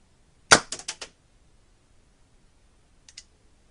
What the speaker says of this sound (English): Now to fire, all that needs to be done is to squeeze the trigger.